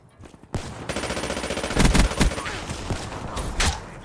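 PPSh submachine gun in Black Ops 3 fires long rapid automatic bursts, loud and close, with dense rattling shots running continuously after a short quiet start.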